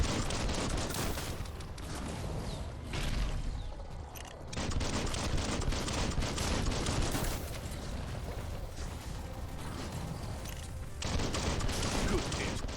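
Sustained gunfire and explosive bursts from the Biomutant video game fill the whole stretch, loud and dense with rolling volleys that swell and dip, with a voice mixed in under the combat.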